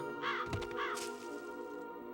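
Crows caw in the Psychonauts video game, two harsh calls repeating near the start over a steady game music and ambience bed, then fading out as the background continues.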